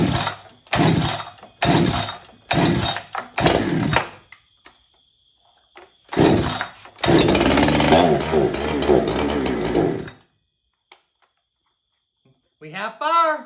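Farmertec 288xp chainsaw, freshly assembled, cranked by pull cord in several short bursts, then catching and running loud and close for a few seconds before cutting out; a voice speaks near the end.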